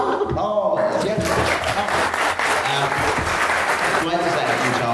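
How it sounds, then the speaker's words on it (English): A sci-fi convention panel audience claps and cheers for the panelists, a crowded burst of applause mixed with voices and talk throughout before it thins out near the end. "Give yourselves a round of applause."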